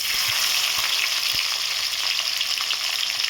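Onions fry with cardamom pods and cinnamon sticks in hot oil for egg biryani, a steady, dense, loud sizzle with a few faint knocks of a utensil.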